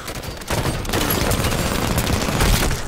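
Sustained rapid gunfire from a battle rifle in the video game Halo 5, a dense loud burst of overlapping shots that starts abruptly after a brief quiet moment and continues without pause to the end.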